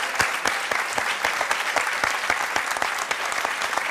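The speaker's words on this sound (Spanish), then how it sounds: "Vamos a dar un aplauso a Nuria" A studio audience at a Canarian parranda music programme claps in a steady, fairly even rhythm, a close, lively round of applause with no talking over it.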